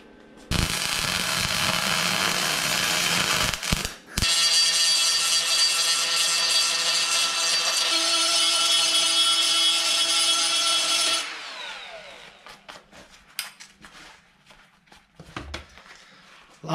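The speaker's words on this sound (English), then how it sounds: "Let's give it a bit of a weld up." Welding on a Toyota FJ45 manifold heat valve held in soft vise jaws: a loud, steady crackling arc runs for about ten seconds with a brief break, then fades into scattered clicks and handling noises.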